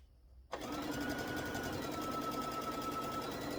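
After a brief hush, a sewing machine starts and runs in one steady, rapid, close-up hum as it stitches fabric strips for a quilt block.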